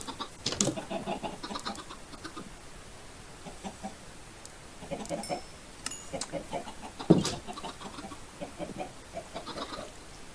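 Minecraft chickens cluck and squawk in scattered bursts, with a sharper cry near the end over a quiet background.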